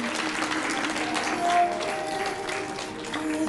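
Audience applause fills an award ceremony hall, steady clapping from a crowd at moderate level across the whole stretch, with faint voices mixed underneath.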